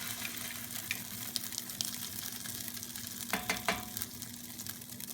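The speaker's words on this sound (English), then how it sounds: "To fry the meatballs, you're going to take your 1/4 measuring cup and dollop it onto the pan" Meatless meatballs frying in a pan, a steady close crackling sizzle with a few sharper pops and scrapes of a spoon or cup against the pan, no voices.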